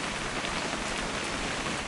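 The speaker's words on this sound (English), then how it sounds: "It's gonna rain the whole weekend," Steady rain falls in a continuous, even hiss of dense drops, close and moderately loud with no pauses.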